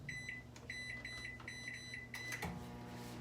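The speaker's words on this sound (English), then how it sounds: "I'm going to pop our rice here in the microwave for 12 minutes." A microwave oven cooks rice with a steady low hum, broken by a series of short, high electronic beeps near the end.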